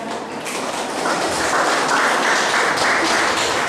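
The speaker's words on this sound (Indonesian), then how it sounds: "Tepuk tangan sekali lagi untuk adik-adik KPAR" A congregation at a Christmas worship service applauds a children's performance, a steady wash of many hands clapping that swells slightly and sounds moderately distant, with no talk over it.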